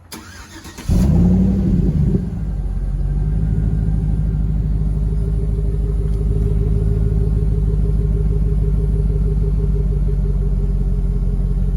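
A pickup truck's 5.3L V8 with a Borla Pro XS muffler cranks and fires up warm, not from a cold start, then settles into a loud, close, deep and steady idle rumble.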